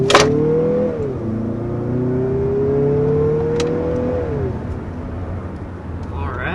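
A 2024 Mazda CX-50 with the 2.5 turbo engine revs up and pulls hard with a rising whir and drone, then settles into a steady cruising hum; no voices heard.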